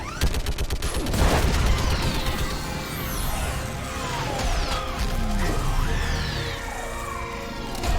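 An orbital strike in the video game Mass Effect 3 hits a live Reaper on the Quarian homeworld, bursting into a loud, dense barrage of explosive impacts and crashing debris with sweeping whines, sustained for several seconds.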